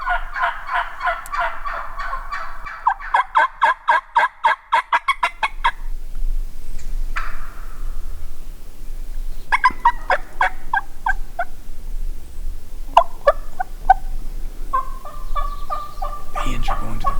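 A Merriam wild turkey in the New Mexico high desert, with rapid rattling gobble bursts, then softer clucks and calls from the flock, alone and fairly near in an open outdoor setting.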